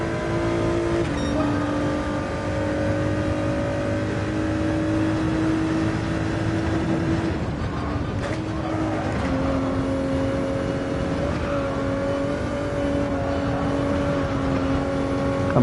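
A race car's engine drones steadily in a racing game, a sustained loud whine that rises and falls with gear changes and throttle, close and constant with no talk.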